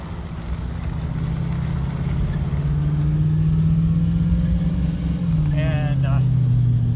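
A car drives along a road with a steady, close engine drone and road rumble throughout, the pitch shifting slightly as it moves, and a brief higher whine near the end.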